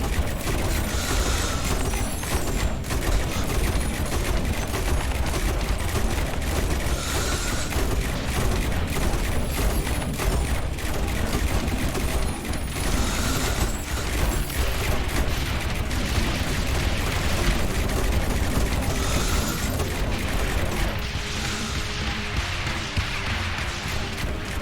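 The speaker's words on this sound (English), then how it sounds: "The mortars just explode after everything's taken care of" Mortar towers firing and exploding in the video game Rogue Tower, a steady, dense barrage of booms and blasts with game music underneath, loud and continuous throughout.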